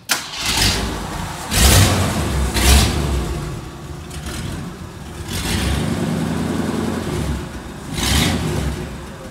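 A 1972 Jeep CJ5 engine runs close by as the vehicle backs out, its mid-pitched rumble swelling in several revving surges and easing back to a steady idle between them, with no talking.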